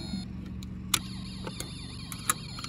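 A small electronic fire engine siren from a Snap Circuits kit warbles up and down in a rising and falling sweep, close and fairly quiet, with a few sharp clicks.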